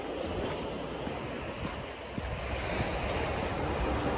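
Waves on a beach in the UK, Weathersea, wash in as a steady, broad roar, with wind buffeting the microphone throughout.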